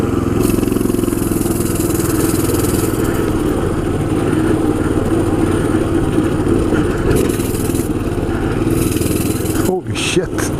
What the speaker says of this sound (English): And now I'm really going to take this little bike on a test.